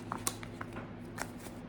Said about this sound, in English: There's like 180 cards in this deck, so it's like impossible to hold in one hand and shuffle.